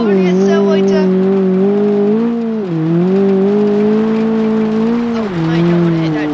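Loud simulated car engine in BeamNG held at full throttle, a steady high droning whine that dips and climbs with brief shifts in pitch, continuous and close throughout.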